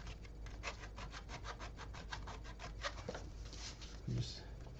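Rhythmic rasping strokes of a file shaping a part for a custom three-string guitar, close and steady, repeating in a quick even pattern.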